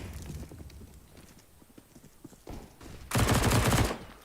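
Pistols, mainly Glocks, fire during a competitive shooter match between Team Liquid and New England Whalers, scattered sharp shots building into a loud rapid burst toward the end.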